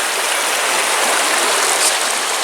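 Water of a stream at Lumsdale Falls rushes and splashes in a steady, bright, continuous hiss, close and fairly loud throughout with no talking.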